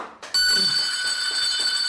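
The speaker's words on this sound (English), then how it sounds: "Ring the bell, man" A bell is struck once and rings out loud and close, its bright metallic tone sustaining and slowly fading.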